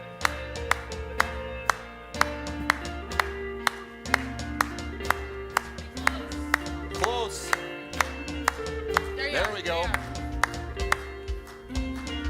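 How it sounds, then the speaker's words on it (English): A church congregation claps in unison to the beat, sharp evenly spaced claps roughly every half second that carry on throughout with a hum of music underneath and a few words spoken briefly. "Keep that clap going."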